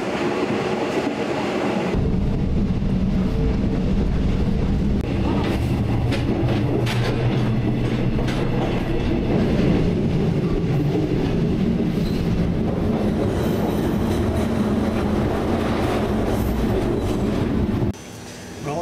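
Malaysia's Jungle Train rolls along the rails, heard from the very last carriage as a loud, continuous rumble with rattling wheels and clatter that holds steady for the whole stretch before dropping off abruptly at the end.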